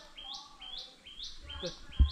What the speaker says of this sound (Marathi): सो पक्ष्यांचो आवाज बरो येता हांगसर